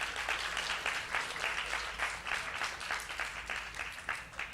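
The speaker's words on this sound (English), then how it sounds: "let's give a round of applause for Arna again" An audience at a temple festival applauds a performer: dense, steady clapping from many hands at a moderate distance, sustained for several seconds without a break.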